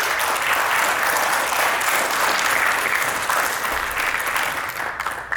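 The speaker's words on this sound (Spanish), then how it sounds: "Un aplauso, por favor." An audience at a conference talk applauds the next speaker, a dense, sustained clapping that stays loud throughout and thins slightly near the end.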